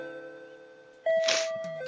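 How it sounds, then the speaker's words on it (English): Shop door bell chiming in the Kitty Love video game, a single bright ring over soft background music. "The bell on the door rang"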